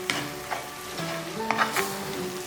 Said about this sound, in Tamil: இப்போ நல்லா இதிலே வதக்கிட்டோம்.